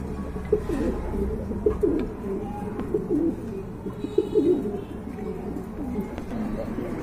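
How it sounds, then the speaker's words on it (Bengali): Pigeons cooing in a loft where pairs of high-quality fancy pigeons are offered for sale, a steady low murmur of coos from several birds nearby, with a faint voice in the background. "দেখেন কতটা কোয়ালিটি ফুল কবুতর"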